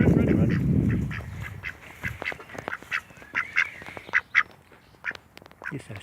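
Domestic ducks quack repeatedly near their enclosure and pond, with short scattered calls of varying loudness following a low rumbling noise at the start.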